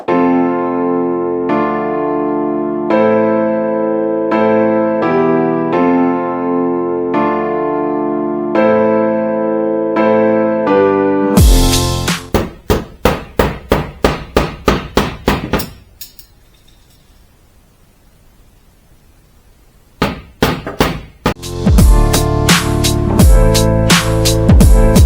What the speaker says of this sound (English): And then I can start hitting it with a hammer.